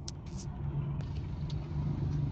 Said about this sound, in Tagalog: nagmamaneho yung mga sasakyan sa harapan natin.